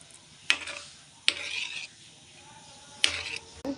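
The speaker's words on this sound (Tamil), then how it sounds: "அப்படியே நல்லா கிளறிக்கிட்டே இருங்க" Stirring of goat blood stir-fry in a hot pan: a few sharp utensil scrapes and knocks against the pan, each followed by a short burst of sizzling, with quiet gaps between strokes.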